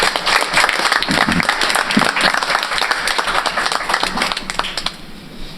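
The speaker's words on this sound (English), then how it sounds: "Let's give a big round of applause for Dave Cost, everyone." A crowd gives a big round of applause for a community founder at a live show, the clapping loud and close, sustained and thick, easing slightly toward the end.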